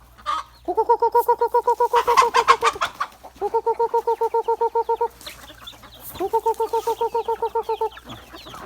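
Hens at a poultry farm give rhythmic, repeated clucking calls in three close bursts, with no talking.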